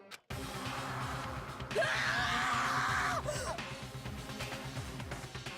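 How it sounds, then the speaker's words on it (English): A wild, almost primeval scream from Danganronpa Trigger Happy Havoc rises sharply and holds, loud and sustained, over a low background music bed before trailing off. "a wild, almost primeval scream escaped from my mouth"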